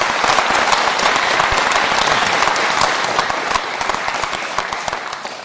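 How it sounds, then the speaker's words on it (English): An audience at a political speech by the Shadow Chancellor claps loudly and continuously, dense applause from a sizeable crowd that fades slightly toward the end. "Do you usually get 2 rounds of applause before you've even spoken a word?"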